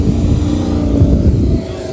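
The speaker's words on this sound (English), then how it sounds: "We got some more of the crew coming in, the Mustang." A Ford Mustang rolls in with a rally crew on a rev rally, its engine a steady low rumble held close and loud throughout, with no talk over it.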